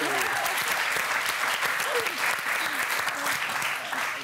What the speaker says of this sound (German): Applaus an meine Mama!